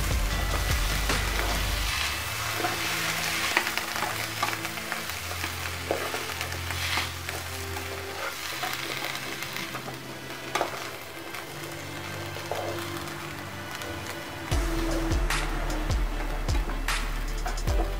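Chopped tomato going into onions frying in a pan for Peruvian seafood parihuela, a continuous crackling sizzle with stirring scrapes and a brief surge in loudness near the end.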